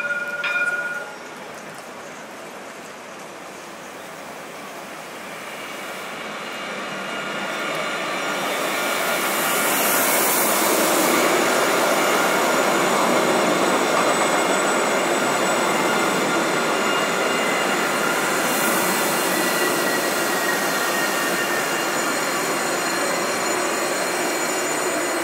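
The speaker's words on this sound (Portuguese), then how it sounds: "E lá a chegada do trem." A train rolls into a station, its rumble swelling after a few seconds and holding steady, with faint high wheel squeals near the rails.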